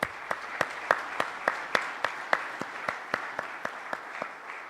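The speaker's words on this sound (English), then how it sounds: "let us extend one final and collective round of applause, as I've been saying, to all of tonight's winners" Audience applauds award winners at the Dun and Bradstreet Infra Awards 2013 ceremony: a steady, moderately soft wash of clapping with distinct, regularly spaced claps standing out, and no talk over it.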